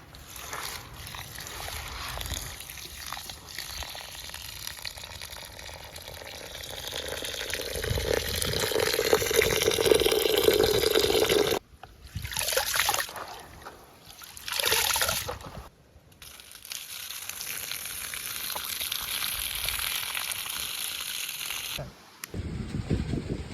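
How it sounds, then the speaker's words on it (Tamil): Rice is washed by hand in a bowl of water for paal appam in a home kitchen, with steady sloshing, trickling and swishing that swells louder for several seconds and stops in brief pauses between rinses. "வாங்க இப்போது அரிசியை நன்றாக கழுவி எடுத்துக்கலாம்."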